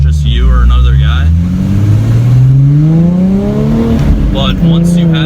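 A car with a Pypes mid-muffler true dual cat-back exhaust revs loudly up and down close by, its exhaust note climbing and falling in pitch, with speech audible over it.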